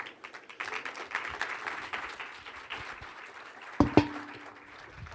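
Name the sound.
audience applause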